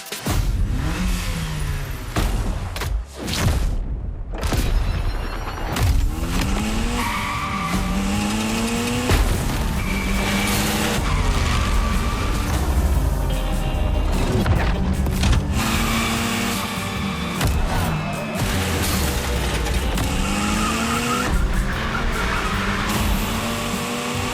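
A Mitsubishi Evo 9 in The Crew Motorfest gymkhana, engine revving hard and tires squealing and skidding through continuous loud drifts, with no talk over it.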